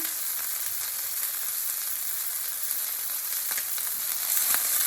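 A stuffed pork loin sears in a hot pan, giving a steady, close, loud sizzle and crackle that runs unbroken throughout with no voices.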